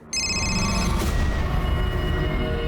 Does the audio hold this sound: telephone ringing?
yes